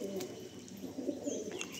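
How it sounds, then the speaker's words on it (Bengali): A female pigeon in a home loft coos softly and low, with a few faint repeated murmuring calls over quiet room noise. "এটা মাদি পায়রা"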